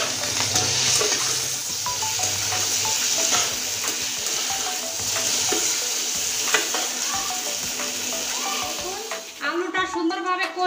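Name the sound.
potatoes being stirred and fried in a pan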